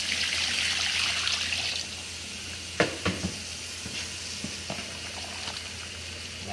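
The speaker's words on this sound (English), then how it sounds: "There is a cure salt and water going in." Cure salt and water poured into ground wild hog sausage meat, a steady hiss of pouring and trickling followed by a few wet splats and clicks close up.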